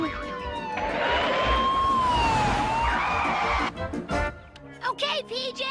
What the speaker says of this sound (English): Give me a siren. I mean an ambulance.